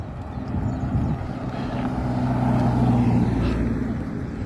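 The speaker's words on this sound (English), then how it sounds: "I'll just wait till this car passes" A car passes along a street in Scarborough, England, a steady engine and tyre rumble that swells toward the middle and stays fairly close and loud before easing slightly, with no talk over it.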